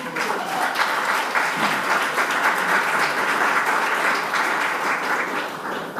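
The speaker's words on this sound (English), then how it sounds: "Give her a big round of applause." A large indoor audience claps loudly and steadily for a Wisconsin State Fair executive at a Milwaukee business event, a dense wash of applause with a few voices mixed in.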